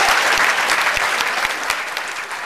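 A television singing-competition audience in a studio breaks into dense, steady applause, a continuous wash of clapping that stays loud for the whole stretch and tapers slightly at the end.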